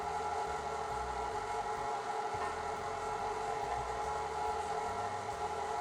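A KitchenAid stand mixer mixes butter into a strawberry crumble mixture, its motor a steady, even whirring hum that runs throughout with no pauses or voices.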